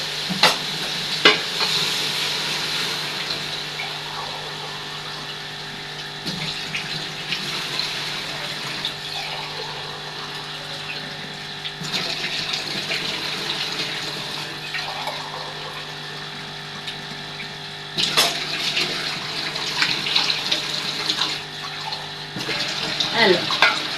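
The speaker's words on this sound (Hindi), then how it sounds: "चार मग पानी दे डाल देते हैं।" Water pours steadily into a pot of rice and spices for pulao, making a continuous splashing rush with a few clinks of the vessel and a faint voice in the background.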